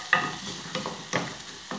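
Onion and bell pepper with a pinch of salt being sautéed in a pan, with soft intermittent sizzling and a few sharp stirring scrapes and clacks of a utensil, close and fairly quiet.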